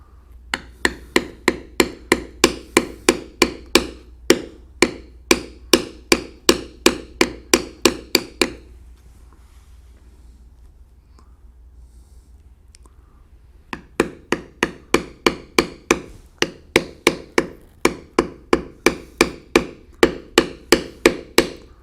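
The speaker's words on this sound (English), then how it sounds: "This is how our Cougar looks after we have done all of the beveling with the checkered beveler." A checkered leather beveler struck repeatedly with a mallet while tooling carved leather, loud sharp close taps in a quick even rhythm, pausing for several seconds of near silence before the tapping resumes.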